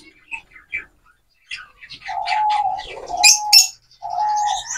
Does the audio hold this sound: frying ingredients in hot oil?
no